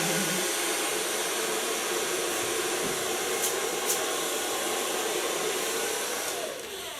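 A hair dryer blows steadily and close by, a continuous even whoosh of air while a platinum-blonde Marilyn Monroe-style hairdo is blow-dried, easing slightly in the last half second.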